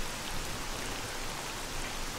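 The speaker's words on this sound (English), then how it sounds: "the rain is really loud" Heavy rain in the video game S.T.A.L.K.E.R. Call of Pripyat, a dense, steady hiss of falling drops filling the whole stretch at even loudness, with no voices.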